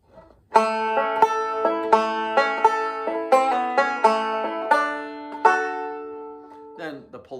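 A 5-string banjo plays the fiddle tune Salt Creek, fingerpicked in an Earl Scruggs-style thumb-index-thumb-middle roll: a steady, bright stream of plucked notes, close and clear, after a brief quiet lead-in.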